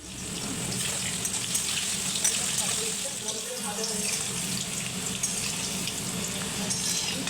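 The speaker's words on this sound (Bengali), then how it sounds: "তেলটা গরম হয়ে এলেই এবার আমি আলুগুলো দিয়ে দেব," Potatoes fry in hot mustard oil in a wok, giving a steady, continuous sizzle that stays at an even level throughout.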